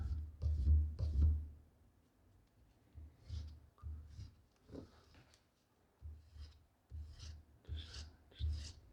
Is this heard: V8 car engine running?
no